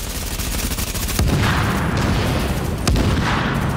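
Gunfire in a shooter video game, a loud continuous stream of rapid shots with sharp heavier blasts standing out twice amid the dense noise, no voices.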